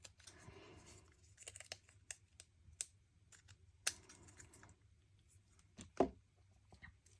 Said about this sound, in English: use your multi-purpose scissors and cut right along the edge of that